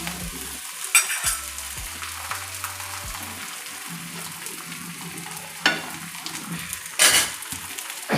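Bottle gourd paratha frying in oil on a pan, with oil added around the edges: a continuous close sizzle broken by a few sharper crackling bursts and light utensil clatter.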